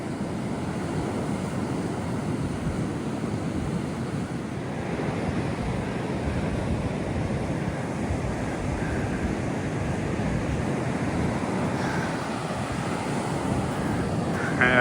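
Waves roll onto a long beach while wind buffets the microphone, a steady broad wash of surf and gusts with no voices.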